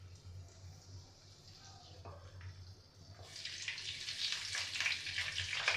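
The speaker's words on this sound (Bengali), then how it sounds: "তেল গরম হয়ে গেছে। এবার আমি এই গরম মশলাটা ফোড়ন দিয়ে দিচ্ছি।" Whole garam masala spices tempering in hot oil for an egg poach curry, a quiet hum at first, then a bright crackling sizzle that rises and stays steady near the pan for the last few seconds.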